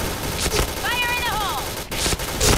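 Gunfire in a Point Blank style shooting video game during a bomb-planted round: loud sharp bursts of shots near the start and again toward the end, with a short tonal game sound in between.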